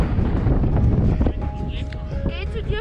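Gusty wind on the Grossglockner summit buffets the microphone with loud roaring bursts, while voices speak faintly underneath.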